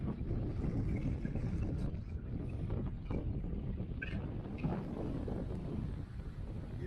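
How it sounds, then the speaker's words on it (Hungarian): Strong, steady wind buffets the microphone on a bicycle tour in Latvia, a low roar that barely lets up, while faint water and boat sounds stay in the background. No one speaks. "Még a végén fölborít a szél."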